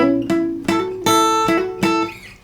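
Five crisp acoustic guitar strums with a short, choppy decay, the strings palm-muted between strokes; close and clear, no voices.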